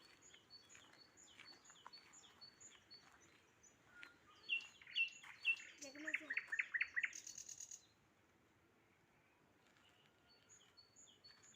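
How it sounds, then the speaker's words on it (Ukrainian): A nightingale and other songbirds, including tits, chirp and warble nearby, with a burst of rapid, loud trilling phrases in the middle, then quieter scattered calls against a calm outdoor background. "Ідемо насолоджуємося такою красотою, співами соловейка."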